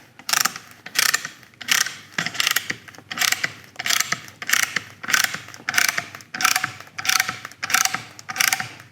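Brake caliper piston on a Golf R being pushed back with a cheap retraction tool, a steady series of about a dozen close, evenly spaced ratcheting clicks with no talking.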